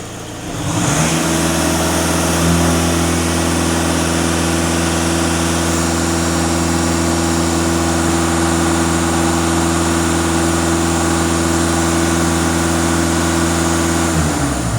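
The 2.0 TDI EA288 diesel engine of a Skoda Kodiak is held at high revs in a loud, steady roar that holds for over ten seconds before dropping off.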